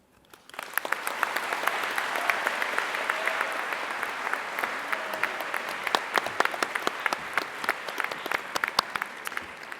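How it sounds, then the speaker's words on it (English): An audience at a 2024 University of New England convocation ceremony breaks into applause that swells quickly and holds as a dense, sustained wash, with sharp individual claps popping out near the end. "Another round of applause for Emmy"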